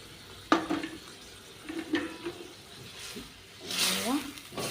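Tomato egg curry being stirred in a pan, with a few scraping, clinking spoon strokes against the metal and a burst of liquid sizzle near the end, fairly quiet and close.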